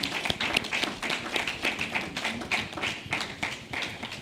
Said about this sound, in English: A round of applause for us again.